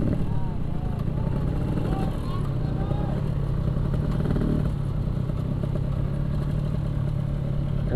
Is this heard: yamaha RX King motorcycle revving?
yes